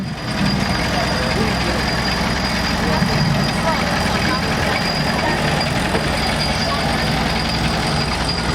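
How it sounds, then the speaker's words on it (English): A 1949 McCormick M tractor engine runs steadily through a small-town anniversary parade in Raymond, South Dakota, a continuous low rumble heard throughout with crowd noise and an announcer talking over it. "This tractor is driven by Jerry Hink. It's a 1949 McCormick M."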